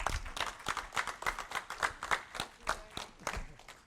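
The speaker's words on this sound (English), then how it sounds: "another round of applause." Audience at an adult storytelling event clapping in steady, rhythmic applause, moderately near, with a faint voice underneath.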